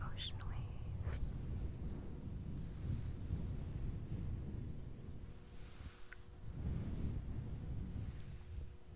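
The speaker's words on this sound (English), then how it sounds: "I do love the sounds of fluffy mic brushing though. It kind of sounds like ocean waves." A fluffy microphone cover is brushed slowly in an ASMR setting, producing soft, rumbling swishes that swell and fade like distant surf, close and muffled throughout.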